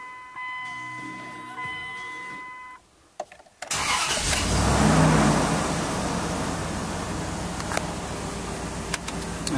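A 2001 Dodge Dakota truck with the 4.7L engine: after a chime and a few clicks, the engine cranks and starts, then runs loudly at a steady idle and pulls away.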